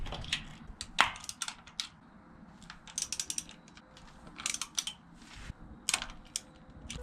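Ratcheting clicks and metallic taps come in quick, irregular bursts as 8mm sprocket bolts are loosened and removed from an XR100 dirt bike, close and fairly quiet with no talk.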